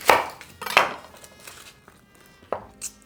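A knife slices an onion in half on a board, giving a few sharp close chops with quieter cutting and handling sounds in between.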